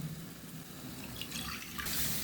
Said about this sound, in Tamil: இதுக்கு மேலே இன்னும் 2 கப்பு தண்ணி உடனே நம்ம ஊற்றணும்.